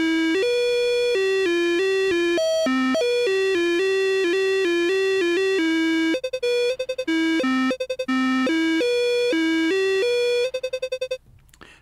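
A keyed Mosstone synth played clean through a Malekko Downer pedal, a bright, pure tone stepping through a bouncy melodic sequence of short notes, with a few quick stuttering bursts and a clipped ending, no voices.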